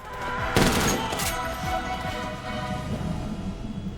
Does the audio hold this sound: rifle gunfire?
yes